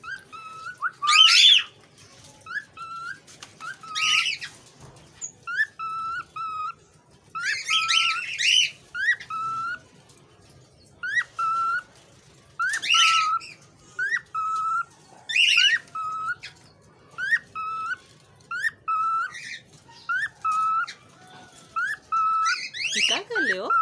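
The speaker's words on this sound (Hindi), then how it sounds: "और गंजू पापा देखो सीटी मार रहा है" A pet parrot whistles repeatedly indoors, sharp bright whistled phrases coming in bursts with short gaps, close and fairly loud, while people talk to it between and over the calls.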